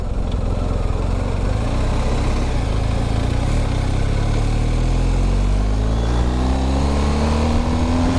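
A BMW GS 1250 motorcycle being ridden, its engine a loud steady drone up close, rising in pitch as it accelerates toward the end, with wind rush throughout.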